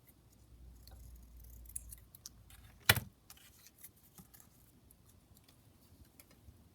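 Scissors snip through paper once, a single sharp close cut standing out against quiet room background.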